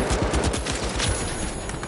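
Rapid automatic gunfire from a Lewis gun in the video game The Finals, a dense, continuous burst of loud shots with a fast, steady rhythm and no voices.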